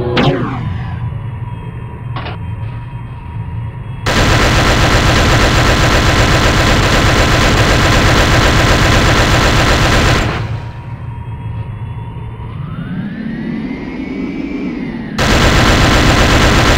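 A heavy mounted Uber gun fires in the video game Breed, a loud, dense, continuous roar of rapid gunfire that stops briefly, leaves a droning engine hum, then resumes at full force.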